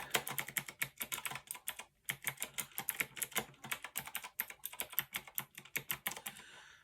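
Rapid, fairly quiet keystrokes on a Fineday mechanical keyboard, a dense run of soft clacks in quick bursts with a brief pause, heard up close and alone.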